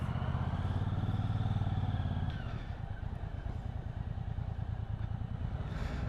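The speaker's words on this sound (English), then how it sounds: "we're just riding it slow through the city, doing a bit of filtering" A 2024 MBP C1002V muscle cruiser motorcycle rolling slowly through city traffic while filtering, its low engine rumble steady and close throughout.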